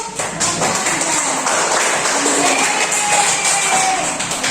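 Classroom of students clapping in a steady, dense patter of hand claps over a noisy room, continuing at even loudness for several seconds.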